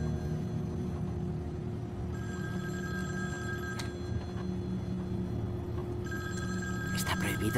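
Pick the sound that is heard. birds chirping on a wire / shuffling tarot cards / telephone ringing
telephone ringing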